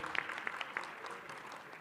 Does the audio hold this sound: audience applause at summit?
yes